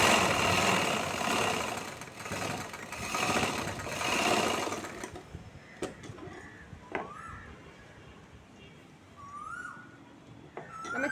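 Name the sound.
sewing machine stitching a chudithar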